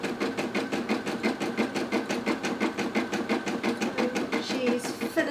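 Brother NV180 embroidery machine stitching a heart coaster design in the hoop, with a fast, steady rhythmic whirring pulse of needle strokes, close and continuous.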